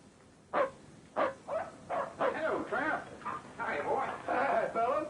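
A hound barks in a series of about ten sharp, yelping barks at an uneven rhythm, close and loud, in a 1940s western film scene.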